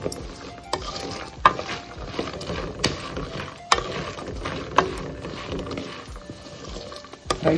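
Cashews, almonds, roasted gram and curry leaves fry in a pan of hot oil, giving a steady close sizzle broken by sharp clicks and knocks of a utensil stirring against the pan.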